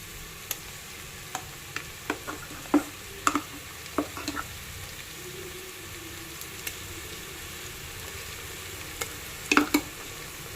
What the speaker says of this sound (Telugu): అల్లం వెల్లుల్లి పేస్ట్ కూడా కొంచెం వేగనిచ్చుకోవాలి